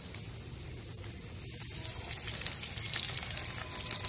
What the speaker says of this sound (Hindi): अब मैं इसमें ये अपने चिकन चंक्स डालने लगी हूँ